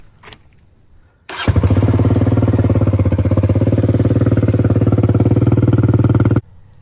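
A Kawasaki KLX140 dirt bike engine starts after a brief click, then runs at a loud, steady, fast-pulsing idle close by for about five seconds before cutting off.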